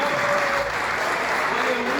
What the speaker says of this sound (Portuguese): Você pode aplaudir o nome dele nessa noite, porque ele é bom.